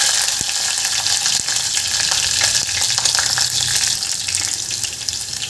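Slit green chilies hit hot oil with whole spices like cloves and peppercorns, giving a loud, continuous close-up sizzle with a few faint clicks of a utensil.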